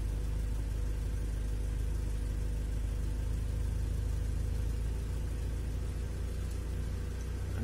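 Car engine idling steadily while an Arduino fuel-and-spark piggyback adjusts ignition timing at idle, a constant low rumble and whir, close and unbroken, with no talking.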